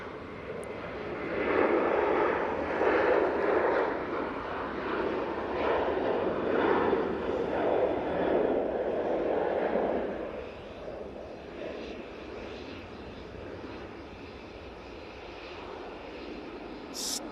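A TUI airliner on approach to Manchester Airport, its engines droning and rumbling steadily from a distance, louder at first and then slowly fading.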